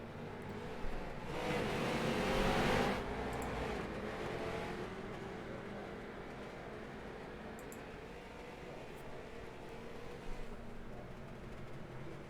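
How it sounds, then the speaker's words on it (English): Race cars and a pace car in a sim racing game at Lanier National Speedway give a steady engine roar, with one louder surge of a car passing close early on, then a continuing drone of the field. "there it goes, the pace car"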